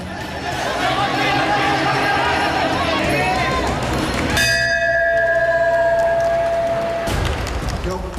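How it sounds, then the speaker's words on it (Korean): Bell rung to start a Muay Thai fight in a Thai boxing arena, steady tones ringing out over a loud, continuous crowd roar and chatter. "시작을 알리는 종소리와 함께 경기가 진행된다"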